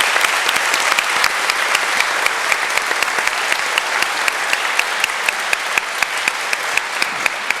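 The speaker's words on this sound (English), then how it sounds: "I'm clapping for you." Sustained audience applause at a panel discussion event, a steady, dense wash of clapping from many hands throughout with sharp individual claps standing out, no talking over it.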